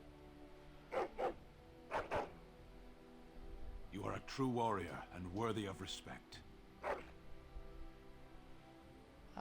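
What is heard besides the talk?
dogs barking in the video game Dragon Age Origins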